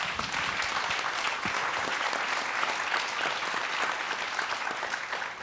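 An audience gives a fair housing forum panel another round of applause, a dense, sustained clapping that stays steady and fairly loud for several seconds, alone without voices.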